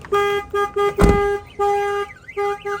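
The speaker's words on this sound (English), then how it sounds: "alarm is sounding on your vehicle." A Ram ProMaster van alarm blares with repeated electronic tones, alternating steady beeps and warbling sirens, loud and close.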